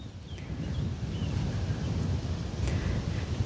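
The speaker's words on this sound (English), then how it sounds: "So it is so windy today" Strong wind buffets the microphone in a continuous low roar, with faint rustling and a few distant chirps above it.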